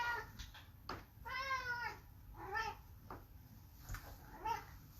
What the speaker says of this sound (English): Cat sitting for a very loud cat.